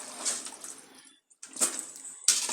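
Water poured into a cooking pot ahead of boiling rice, a close splashing trickle in a few bursts separated by a short pause.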